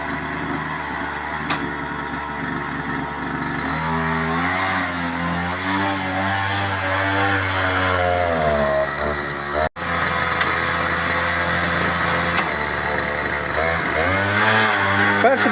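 A homemade mini-tractor powered by a brushcutter engine runs steadily in reverse gear, its close, buzzing two-stroke drone rising and falling in pitch as the throttle changes, with a brief cut near the middle.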